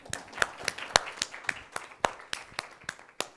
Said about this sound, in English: Now you guys can clap.